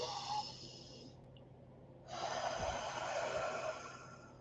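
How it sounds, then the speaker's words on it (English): A slow, deep inhalation during a guided breathing exercise, heard faintly and close, with a soft snort-like intake of air and no talking. "Taking a deep breath in."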